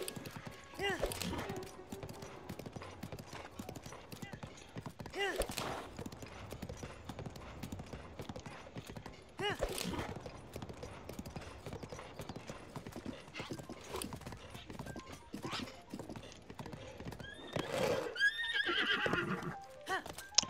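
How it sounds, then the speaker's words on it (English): Horse galloping with repeated clip-clop hoofbeats and several loud neighs and whinnies while riding through flames in a Zelda game (Master Mode challenge), steady throughout with game sounds; a voice talks over parts. "Riding a horse through the flames."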